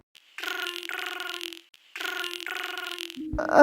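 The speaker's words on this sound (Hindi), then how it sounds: "सर, आपका फ़ोन बज रहा है।" A phone ringing inside the Sakura School Simulator video game, two electronic ring bursts with a brief gap between them, loud and alone, ending in a short clattering noise.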